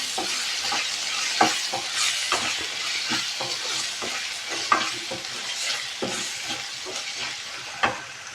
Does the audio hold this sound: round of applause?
no